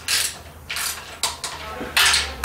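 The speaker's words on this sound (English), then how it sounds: "We'll torque this pan down too, also." A torque wrench tightening the transmission pan bolts on a Dodge Ram 1500 during a rebuild: close, crisp ratcheting clicks in about five short bursts with brief pauses between.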